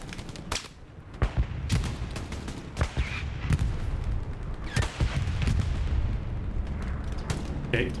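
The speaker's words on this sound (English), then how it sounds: "MG needs to be firing. Now he is." Machine gun bursts and heavy gunfire crackle through a video game match, with repeated sharp shots and booming impacts over a dense battle din.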